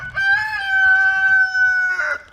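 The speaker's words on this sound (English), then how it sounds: "That rooster's always crowing to warn the hens that I'm out here" An Americana rooster crows once, loud and close, in a long sustained cock-a-doodle-doo that ends in a rough break, with faint clucking from hens underneath.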